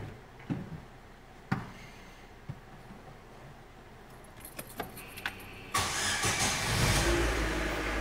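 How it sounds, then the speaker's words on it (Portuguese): A car engine cranks and fires up after a few faint clicks and key jingles, then settles into a steady, close idle, with no talking over it. "eu vou pôr o motor para funcionar"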